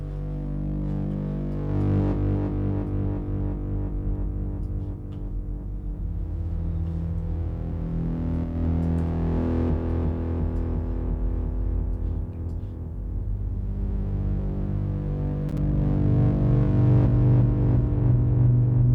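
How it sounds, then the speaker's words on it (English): A thick, distorted synth pad from a modular synth drones continuously, swelling and shifting with rich, gritty harmonics and slow movement, loud and unbroken throughout. "super fat pad sound we've got going off here"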